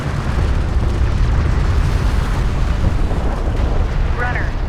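An explosion in Homeworld: Deserts of Kharak is heard as a loud, sustained rumbling roar that fills the whole moment, dense and close, with no clear talk over it.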